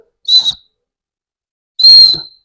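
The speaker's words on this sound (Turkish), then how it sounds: "böyle bir düdük." Two short, shrill blasts from a whistle built into a solar powerbank radio, close by, separated by over a second of silence, the second slightly longer.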